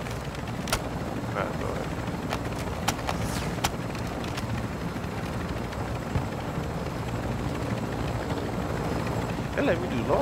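Helicopter rotor drone in a video game, a steady low churning roar that runs the whole time with a few sharp game noises on top and someone talking over it.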